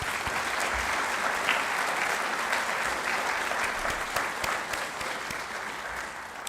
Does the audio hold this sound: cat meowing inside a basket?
no